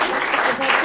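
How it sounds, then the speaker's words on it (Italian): Applause from an audience at an evening cultural event in Italy, a short steady burst of clapping filling the whole moment at close range. "Un applauso."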